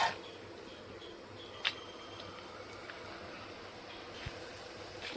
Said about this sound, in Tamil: இந்த பருப்பு வறுபடுத்தோம்.